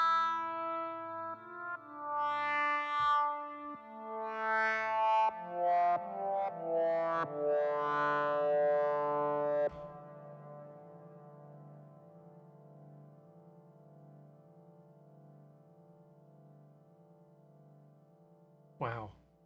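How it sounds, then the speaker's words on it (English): Synthesizer chord with sustained harmonic tones that shift through a few notes, then rings out into a long, slowly decaying reverb tail that lingers for around ten seconds. "Wow, listen to that reverb. That is going on forever."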